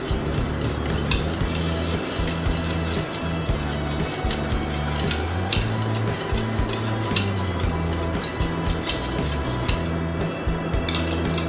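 Thick Bombay halwa mixture stirred continuously, a dense steady bed of scraping and sloshing with frequent small utensil knocks against the pan, loud and close, no speech.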